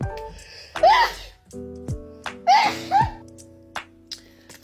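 A woman sneezes repeatedly while changing her nose ring, two sharp bursts with breathy intakes standing out among smaller sounds, close to the microphone.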